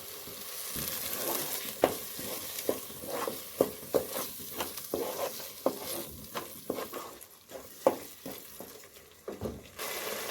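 Cashew paste sizzles in an egg curry masala while a spoon stirs it, giving a steady frying hiss broken by a string of sharp scraping strokes at a regular rhythm, close and clear.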